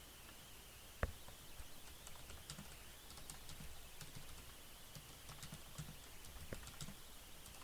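Faint keystrokes on a computer keyboard, scattered soft taps spread across several seconds with one sharper click, over a low steady background hiss.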